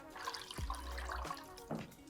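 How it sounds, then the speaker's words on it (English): Four cups of cold water poured into a soup pot in a home kitchen, a close, steady gushing splash lasting about a second and a half, with a smaller splash just after. "And then we have 4 cups of cold water we need to add as well."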